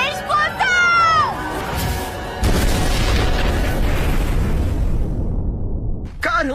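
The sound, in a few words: explosion spell in anime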